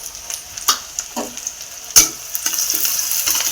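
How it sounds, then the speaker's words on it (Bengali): Chopped onions fry in hot oil in a wok, a close sizzle punctuated by several sharp scraping stirs of a spatula, with the frying hiss growing steadier toward the end. "পেঁয়াজটা আমি লাল লাল করে একটু ভেজে নেব"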